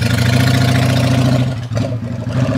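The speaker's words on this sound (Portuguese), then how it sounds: "E essa daqui é a minha Honda Shadow VT600 na cor rubra, ano e modelo 2000" A red 2000 Honda Shadow VT600 motorcycle idles close by, a loud steady low throbbing engine note with a brief dip partway through, heard without speech.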